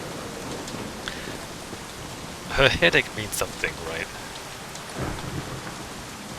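A thunderstorm with rain in a Hong Kong setting from Shadowrun Hong Kong: steady rain hiss under a voice speaking, with a brief rumble of thunder partway through.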